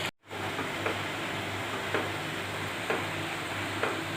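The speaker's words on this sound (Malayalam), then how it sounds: "ഞാൻ ഉള്ളി ഇവിടെ ഫ്രൈ ചെയ്യാൻ ഇട്ടിട്ടുണ്ട്." Onions frying in a pan over full flame give a steady, dense sizzle close by. A few soft stirring scrapes repeat at a slow, roughly even pace, and the sound cuts out briefly at the very start.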